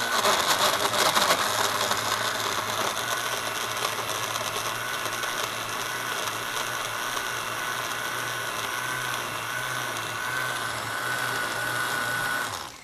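A blender grinds ripe papaya for a fruit blend, making a steady, loud whirring motor drone that holds evenly for the whole stretch and cuts off at the end.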